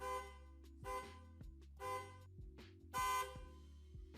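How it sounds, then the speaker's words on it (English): Horn of a 1999-2004 Ford F-150 SVT Lightning pickup sounding in a garage test, several loud honks of varying length with pauses between them, the last blast the longest and strongest, no talking. "test to make sure the horn works"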